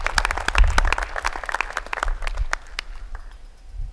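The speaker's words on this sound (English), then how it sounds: "let's give Joshua a very big round of applause" An audience claps in a round of applause at a livestreamed event, dense hand claps at first that gradually thin out and fade toward the end, with no talking over them.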